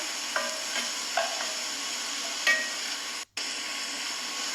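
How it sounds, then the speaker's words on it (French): Onions frying in a pan make a steady soft sizzle, with a few brief utensil scrapes and taps and a short drop to near silence partway through. "Donc là, on fait revenir les oignons."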